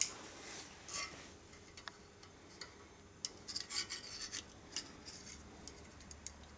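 A gasket is scraped off the case of a 1941 Harley WL flathead engine, heard as faint, quiet rasping and scraping strokes that come in short bursts and cluster near the middle, with no one talking.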